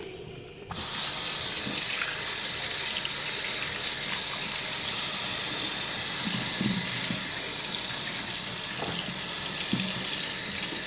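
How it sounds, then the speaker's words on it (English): Potatoes rinsed one at a time under a steadily running kitchen sink tap, a constant loud splashing hiss of water that starts abruptly and continues alone. "Wash those one by one as we dump them in."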